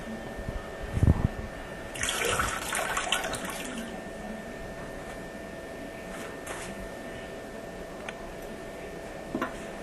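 Water draining from a brass toilet tank, a soft trickle and gurgle that rises briefly near the start, then fades to a quiet, steady flow with a few faint ticks and clinks.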